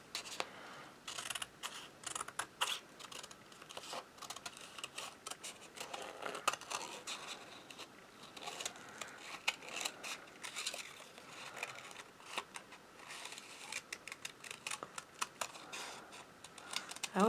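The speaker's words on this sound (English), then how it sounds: "I'll get my big scissors out here." Big scissors making a quick run of crisp, close snips, irregular and fairly quiet, scattered throughout with small rustles between cuts.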